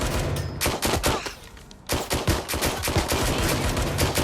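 Loud Watch Dogs Legion gunfight with dense, continuous automatic fire and overlapping shots, a brief lull near the middle, then sustained shooting again.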